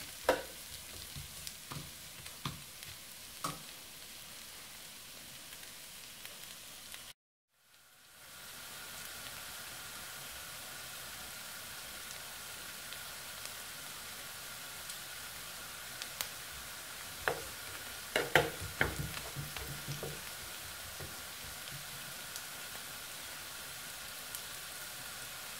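Bottle gourd and prawns frying in a pan over a low gas flame, a steady soft sizzle running throughout, broken by a brief pause and a few scraping stirs and clinks of a spoon against the pan.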